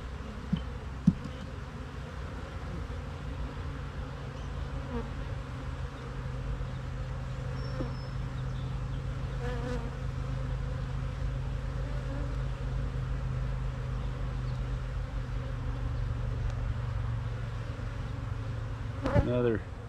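Honey bees hum steadily while being installed into a queen-right starter colony, a dense continuous buzz close by with occasional individual bees flying past and light handling knocks.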